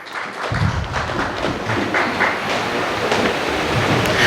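A large crowd claps in an auditorium hall at the inaugural session of an AICTE-ATAL faculty development programme at the Lords Institute, a dense steady roar of hands starting abruptly and holding loud throughout.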